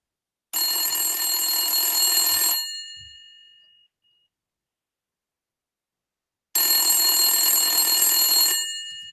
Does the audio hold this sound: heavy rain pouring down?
no